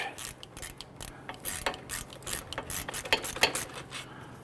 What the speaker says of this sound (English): I'm tilting the ratchet down just a little bit. It's going to allow that socket and bolt to work its way out